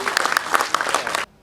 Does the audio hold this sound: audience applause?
yes